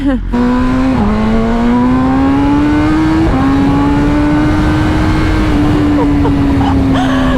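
A 2023 BMW M1000R motorcycle engine revs loud and close through its exhaust, holding a steady high-pitched drone with small pitch shifts and brief dips, a voice faintly audible beneath.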